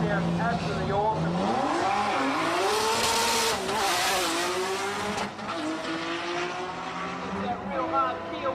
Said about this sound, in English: The R32 couple of turbos hanging off, and it sounds absolutely awesome.